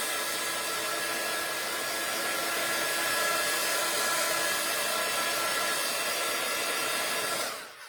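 A craft heat tool or dryer blows steadily and loudly, drying ink on a card, a continuous broadband whoosh that holds for nearly eight seconds before cutting off at the end.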